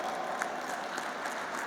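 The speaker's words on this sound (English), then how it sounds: "Let us give them a big round of applause." An audience applauds at a Naturopathy Day celebration in a university hall at MIT-ADT University, Pune, with a brief burst of dense, even clapping.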